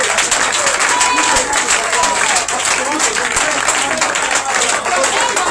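A church congregation claps steadily in sustained, loud applause at a Feast of Tabernacles gathering, with voices mixed into the crowd noise throughout.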